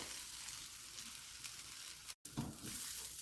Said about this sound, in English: you can just keep stirring it a little bit so it doesn't stick to the bottom of the pan